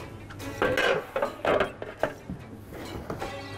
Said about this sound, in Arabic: هجيب صاج كده فرن من هنا، احط بس عليه الصينية دي